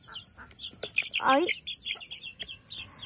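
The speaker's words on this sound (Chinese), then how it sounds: "小鸡" Young chicks peep in high, rapid chirps with a few soft clucks while pecking at food, close by, with a brief spoken interjection among the calls.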